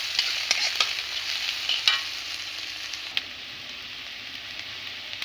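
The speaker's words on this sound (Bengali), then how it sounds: "আমি এগুলো ভেজে নেব।" Food fries in a pan over a village cooking fire with chilies added, a soft continuous sizzle broken by scraping stirring clicks, fairly faint and without talk.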